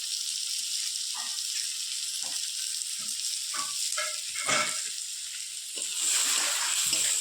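Onions fry in a pan, salted after tomato and ground cumin, ginger, garlic and chili paste go in, giving a steady close sizzle with occasional stirring scrapes and a louder crackle near the end.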